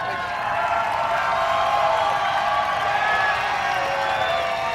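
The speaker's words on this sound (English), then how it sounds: "The crowd is going crazy" Dense, steady roar of a large outdoor crowd cheering and applauding at the 2011 AMA Motocross Steel City 250 class championship presentation, loud and continuous throughout.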